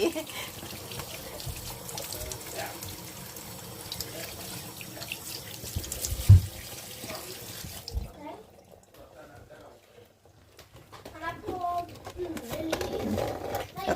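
Tap water runs and splashes steadily in a sink while fresh crabs are rinsed and handled, with a voice talking nearby; the flow stops briefly, then resumes.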